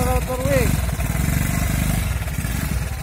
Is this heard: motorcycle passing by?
yes